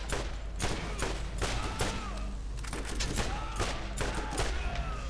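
Rapid bursts of gunfire from a weapon in the video game Borderlands, repeated sharp shots in quick clusters, loud and close throughout with no talking.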